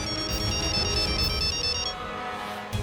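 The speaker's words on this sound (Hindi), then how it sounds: "फोन बज रहा है।" A phone ringtone plays a repeating electronic melody over a noisy scene for about two seconds, then cuts off and leaves background sound.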